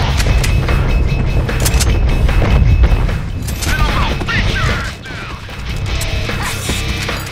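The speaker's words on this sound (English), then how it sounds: "Woohoo! Fireworks!" Fireworks crackle and boom in a chaotic fight in the Deadpool video game, a loud, dense barrage of pops and bursts that continues throughout.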